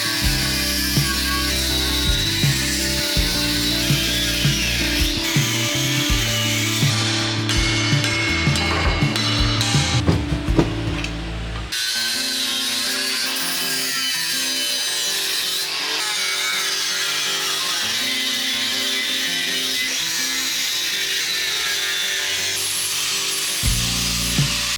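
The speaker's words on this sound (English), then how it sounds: "So now time to weld this off with some good welds, then grinding down the axle" Power tool grinding down a freshly welded axle on a Volkswagen Golf 2 rally car undergoing a Haldex conversion, a loud continuous abrasive whine with shifting pitch, a brief harsher burst midway, then steady grinding to the end.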